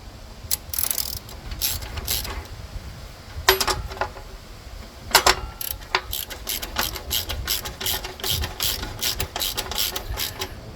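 A bolt being tightened on the belt pulley of a Husqvarna mower, a ratchet wrench clicking in several quick bursts with pauses between them, close and fairly loud against a quiet background.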